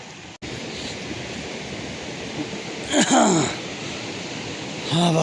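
A mountain river near Jagat on the Manaslu trail rushes in a steady broadband roar near a suspension bridge, with a brief voice-like sound midway and another near the end.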